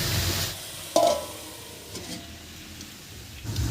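Bottle gourd stems with turmeric and salt cook in a pan, giving a soft, quiet sizzle and one sharp clatter of stirring, with the sizzle swelling again at the end.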